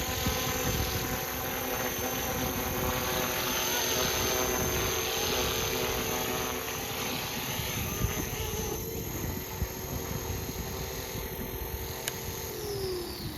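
A FlishRC AS350 450-class RC helicopter hovers close by with a steady high rotor whine and motor hum, then settles and lands as the sound drops slightly near the end.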